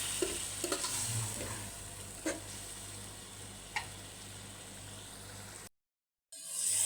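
Chicken is fried and stirred in a pan for a chicken and bottle gourd curry, a constant low sizzle with a few sharp spoon taps, before the sound briefly cuts to silence near the end.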